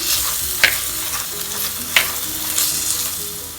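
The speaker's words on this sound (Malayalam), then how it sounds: "അങ്ങനെ ഇഞ്ചിയും വെളുത്തുള്ളിയും ചേർത്ത് നന്നായി ഒന്ന് വഴറ്റിയെടുക്കാം" Crushed ginger and garlic sautéing in hot oil for a chicken liver curry, a steady bright sizzle with a few sharp spoon scrapes against the pan, close and loud with no talking.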